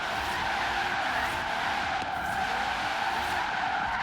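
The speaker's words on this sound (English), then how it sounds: "And as you see, guys, it's just drifting like a champion." All-wheel-drive car drifting in the video game Forza Horizon 3, a sustained, loud tire skid squealing steadily over engine noise for the whole stretch, with no talk.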